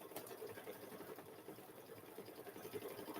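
An embroidery machine stitches a chicken-themed quilt block in the hoop, giving a steady, quick mechanical whirring and ticking rhythm at low volume with no talk.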